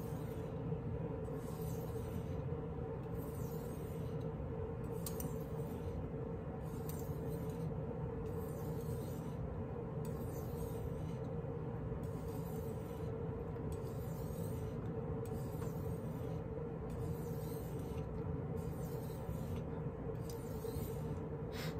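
Chef's knife drawn in repeated strokes across an Arkansas sharpening stone oiled with mineral oil, a soft scraping hiss about every second in a steady back-and-forth rhythm, close but quiet over a low background hum, no talking.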